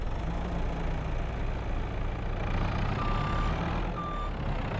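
A farm vehicle engine runs at a steady low rumble in Farming Simulator, with brief reversing-style beeps sounding over it and no voices.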